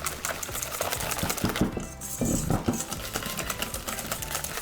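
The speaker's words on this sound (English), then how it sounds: "So give your mix a good whisk." Batter for Yorkshire puddings is beaten briskly in a bowl, a rapid rhythmic clatter of a whisk against the sides, close up and fairly faint.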